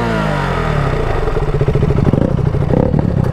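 Motorcycle engine running close by with heavy, uneven rattling and clatter, loud and continuous with a rough pulsing beat.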